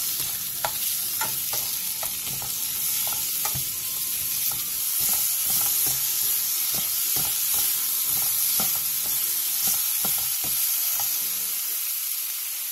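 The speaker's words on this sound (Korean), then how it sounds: "팬에 기름을 두른 뒤 오이와 다진 마늘 1스푼, 소금 3분의 1티스푼을 넣고 중불에서 5분 정도 볶아주세요" Cucumber and minced garlic stir-fry in an oiled pan over medium heat, giving a continuous close sizzle broken by frequent scraping clicks of a spatula tossing the pieces.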